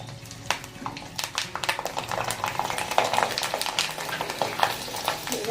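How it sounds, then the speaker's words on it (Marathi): Crackling sizzle of sabudana papad frying in hot oil, with dense popping and occasional stirring scrapes, close and continuous. "आता याला आपण तळून घेऊ"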